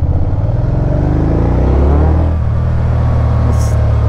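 A 2010 Can-Am Spyder RT-S with a manual five-speed gearbox rumbles loudly and close as the throttle closes, its engine note falling and fading into a deep idle-like drone under compression braking.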